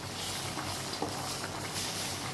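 Fried pumpkin pieces going into a pot of simmering winter mixed vegetable curry, giving a steady low bubbling sizzle with faint stirring throughout, close and even in level.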